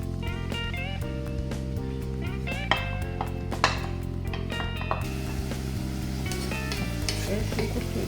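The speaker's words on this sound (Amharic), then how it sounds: "ሽንኩርቱን እጠብሳለሁ።" Onions frying in olive oil in a pan while being stirred, a loud continuous sizzle with a steady crackle, overlaid by frequent scraping and clinking of the utensil against the pan.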